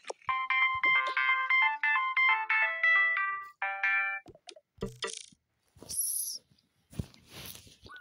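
A phone ringtone plays a bright melodic electronic tune for several seconds, loud and close, followed by scattered clicks and shuffling noises.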